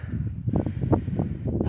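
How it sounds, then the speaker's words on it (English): Wind gusting outdoors in a cemetery, a steady rushing roar with low buffeting rumble across the whole brief moment, loud and close to the microphone. "Sorry about the wind, y'all."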